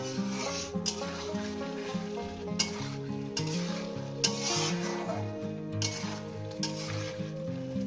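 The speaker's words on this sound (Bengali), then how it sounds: "আলু আর পটলটাকে দিয়ে দিলাম দিয়ে আরও দু থেকে তিন মিনিট আমি কষিয়ে নেব" Potato and pointed gourd sautéing in a pan for a vegetarian Bengali dish, a soft continuous sizzle with periodic scraping stirs, partly buried under steady background music.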